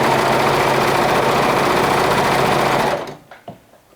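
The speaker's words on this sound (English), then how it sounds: "So I'm stitching, top stitching, right until I get" A sewing machine top stitches a seam on a garment, giving a loud, close, steady mechanical whir for three seconds. It then stops, leaving a few faint handling clicks.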